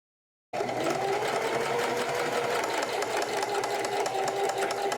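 A sewing machine top stitches a coat belt for a wrap peacoat, starting abruptly and running in a steady, fast, continuous whir close up.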